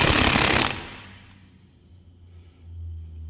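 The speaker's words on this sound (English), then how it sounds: "I'm going to use my impact here, and we're going to get it off." Loud, dense rattling burst from an impact wrench on the 36 mm front spindle nut of a 1997 Jeep Grand Cherokee 4x4, lasting under a second, then a low idling hum with a brief swell near the end.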